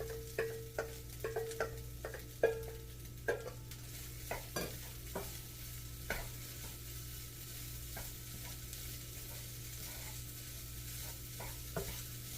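Hamburger meat sizzling in a skillet while a spoon scrapes and stirs it, giving irregular close clacks and scrapes over a steady low frying hiss, with no one talking.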